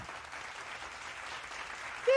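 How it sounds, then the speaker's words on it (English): A small group claps at the end of a Dungeons and Dragons session, a steady patter of applause held at moderate level throughout, ending in a brief louder sound. "Big claps all around. I'm seeing some claps."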